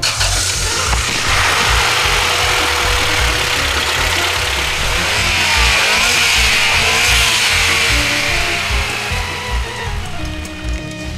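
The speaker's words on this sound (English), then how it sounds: "You know, you can always tell a turbocharger when it whistles, but go ahead and start it up." A turbocharged Honda Civic Si hatchback engine runs steadily at idle, close and loud, with a low rhythmic chug and a faint high turbo whine riding above it, no voices.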